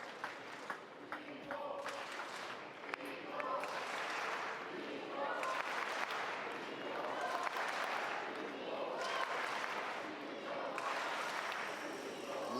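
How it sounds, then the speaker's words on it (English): A crowd of passionate fans at a German Open men's table tennis final between Dimitrij Ovtcharov and Timo Boll cheers and applauds in rising swells under a commentator's talk. "Dima got a few cheers there at the end from some passionate fans"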